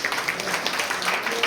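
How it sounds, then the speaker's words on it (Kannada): Children clapping together in a group after a Bible verse recitation, a brief, even patter of applause at moderate volume with no speech over it. "ಓಕೆ, ಎಲ್ಲ ಚಪ್ಪಾಳೆ ಹೊಡೆಯಿರಿ"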